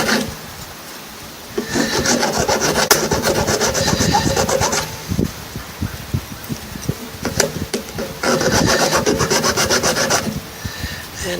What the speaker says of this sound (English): Take a file and clean these edges up a little bit.